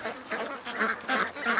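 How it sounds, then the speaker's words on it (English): A free-range duck quacks close by, a quick series of four or five nasal, raspy calls in an irregular rhythm, with no talking. "Man, Fabio, look at this duck."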